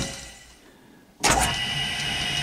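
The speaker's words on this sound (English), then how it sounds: "I'll just turn that on. Doesn't that sound like a lovely little lathe?" Brook Motors Gryphon electric motor driving a small lathe switches on abruptly after a quiet moment, then settles into a steady, fairly loud whirring hum with a high whine.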